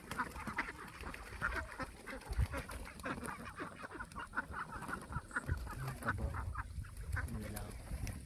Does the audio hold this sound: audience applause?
no